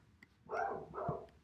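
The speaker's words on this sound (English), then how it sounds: "Sorry about my dog barking in the background." A dog barks twice in quick succession outside a house, the sound fairly faint and distant in an otherwise quiet room.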